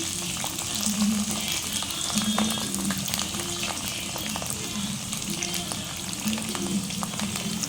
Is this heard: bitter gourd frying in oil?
yes